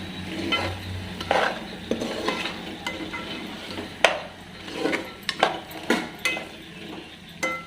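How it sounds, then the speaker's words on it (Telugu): Mutton frying with ginger garlic paste over a low flame: a steady sizzle broken by repeated sharp spoon scrapes and knocks against the pan, close and irregular, with no voices. "స్టవ్ సిమ్లో పెట్టుకొని నిదానంగా వేపుకుందాం"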